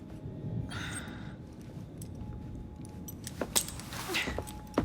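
A ring of keys jangles in Assassin's Creed Syndicate as it is handed over: a few brief metallic clinks and rattles over a quiet room tone, fairly close, with a soft breath or gasp.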